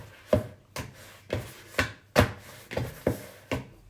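Spelt bread dough, lightly oiled, is stretched and folded by hand in a steady rhythm of about eight soft, close slaps and squelches with short gaps between them.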